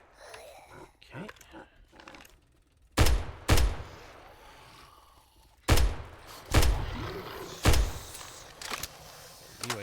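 Gunfire in the video game 7 Days to Die: about six loud, sharp shots are spaced irregularly across the second half, after quieter game noises and voices at the start.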